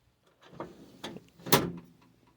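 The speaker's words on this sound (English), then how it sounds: "Drawers open and close." Drawers of a Workpro work bench slide open and shut in three quick rumbling strokes, the last one loudest, heard close in a quiet apartment room.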